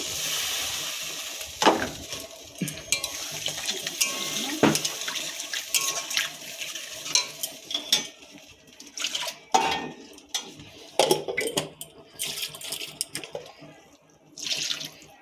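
Water poured into a cooking pan while making a fish curry, splashing and running in uneven bursts with clinks of a metal pan and utensils, fairly close and without talk.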